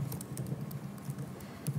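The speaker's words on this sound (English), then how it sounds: "Let me type in again." Quick, light keystrokes on a computer keyboard, tapped in short irregular bursts at close range with no talking.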